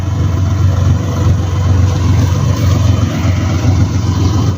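A car engine idling steadily after a fuel-mixed catalytic converter cleaning fluid was used, a loud, close, even low rumble with slight pulsing and no speech over it.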